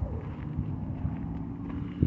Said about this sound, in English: It's been really windy and cold.